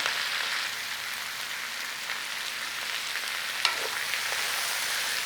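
Chicken sizzles in a pan for a sticky chicken and cabbage stir fry, a steady bright frying hiss with one brief scrape or clatter partway through.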